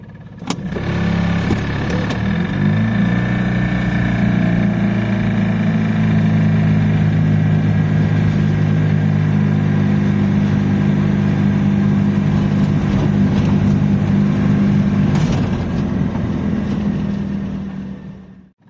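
Ligier JS60 microcar engine running close and loud, a steady droning idle that rises slightly as the throttle is pressed, holding for most of the clip before cutting off.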